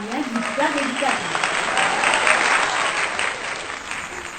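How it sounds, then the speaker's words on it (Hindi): Steady applause from an audience at a Hindi poetry recital, dense clapping that holds at an even level throughout, with a voice speaking briefly over it at the start. "जोरदार तालियां"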